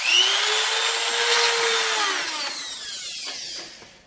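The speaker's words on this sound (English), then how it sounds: "we drill a small point right there, just to make it a little easier for when we use the big drill bit." A small power drill bores a pilot hole into a skull model, a high whining spin that slows in pitch as the bit bites, then winds down and stops after about four seconds.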